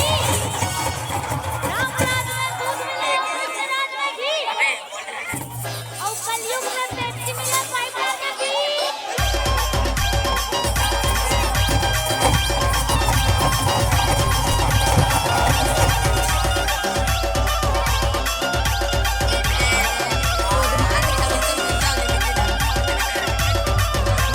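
Crowd at a village fair in Gopaltola, a small village in Khairagarh district, a dense continuous murmur of many voices over a loud, steady rhythmic beat of amplified music, with brief quieter gaps early on.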